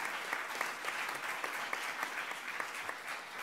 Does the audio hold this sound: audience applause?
yes